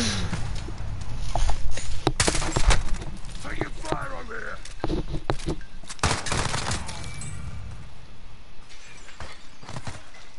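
Heavy video game gunfire crackles throughout: dense bursts of automatic fire and sharp single shots, loudest early then continuing as a steady barrage, with a few glassy breaking sounds mixed in and voices talking over it.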